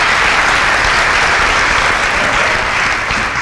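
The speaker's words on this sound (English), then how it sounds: "A round of applause for" A studio audience applauds steadily and loudly, dense continuous clapping filling the whole moment without a break.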